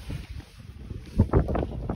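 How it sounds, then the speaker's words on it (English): Gusty wind buffets the microphone in low rumbling bursts, growing stronger toward the end. "Man, it's windy."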